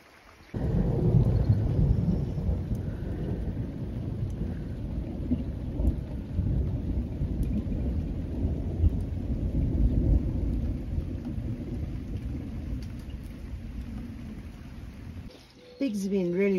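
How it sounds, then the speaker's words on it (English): A morning thunderstorm drenches an off-grid homestead, with steady heavy rain and rolling rumbles of thunder filling the air continuously, close and loud, for the whole stretch. "Thunderstorms and rain this morning"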